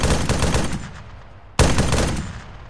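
Rapid automatic gunfire in ArmA 3 during an infantry firefight, a burst of close shots with echoing tails, a brief pause, then another sharp burst.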